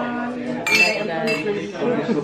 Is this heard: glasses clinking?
yes